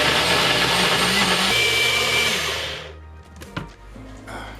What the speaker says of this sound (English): Handy dandy blender.